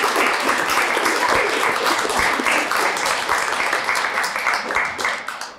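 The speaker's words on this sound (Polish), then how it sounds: "Wielkie brawa." A crowd at a debate applauds steadily for several seconds, a dense patter of many hands that begins to thin toward the end.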